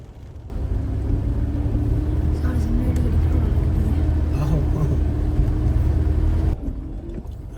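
A car labours along a slippery, rocky mountain track at Gabin Jabba in Swat Valley, its engine giving a continuous heavy drone and low rumble for several seconds, with people talking over it before it abruptly drops away.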